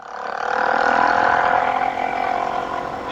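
A Suzuki DRZ 400 dual-sport motorcycle fitted with a Yoshimura slip-on exhaust runs steadily on gravel and pavement, a continuous close engine drone with a whirring mechanical hum and no voices.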